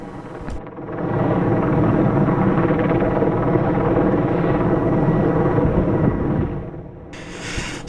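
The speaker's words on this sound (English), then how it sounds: "we've got the helicopter rising in altitude very, very slowly, getting the slack out of the cabling." An Erickson Air-Crane helicopter hovering and slowly climbing above the top of a 2,000-foot tower during an HDTV antenna swap gives a loud, steady, broadband rotor and engine roar that swells in and holds before easing slightly.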